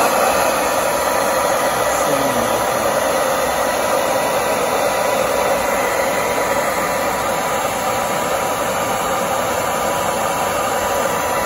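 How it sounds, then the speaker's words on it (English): Handheld hair dryer blowing steadily over crayons for melted wax painting, a continuous close whooshing hum holding at even loudness with no talking. "just start holding the hairdryer over the crayons"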